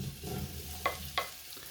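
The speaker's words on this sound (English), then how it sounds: "Chuck in the tofu." Tofu frying in heated oil in a fry pan, giving a steady low sizzle with two sharp utensil clinks or pops near the middle.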